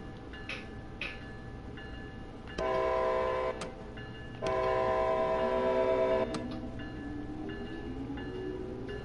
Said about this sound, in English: I love the startup sounds on this train.